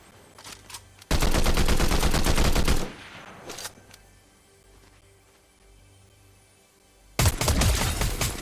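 Fortnite video game gunfire: a loud, rapid automatic burst lasting about two seconds, a couple of separate single shots, then another sharp burst near the end, all close and without talk.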